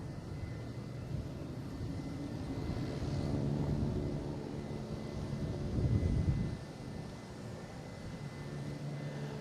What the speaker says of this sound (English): So this is JetBlue heading to JFK.